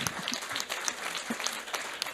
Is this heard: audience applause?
yes